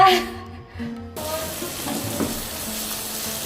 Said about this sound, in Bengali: আজকে আমি রান্না করছি হচ্ছে করলা ভাজা